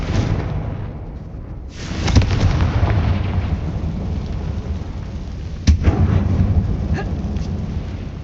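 A Confringo spell explosion in the Hogwarts Legacy video game, a heavy boom followed by a sustained rumbling roar, with a second sharp crack later, loud and close.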